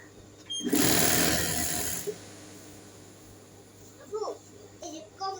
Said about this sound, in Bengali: পুরোটা কিন্তু অ্যাকুরেট করে আমি এই সেলাইটা করতেছি